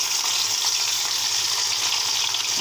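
Fish roe fries in hot oil with a loud, even, hissing sizzle that stays constant and close, with no talking.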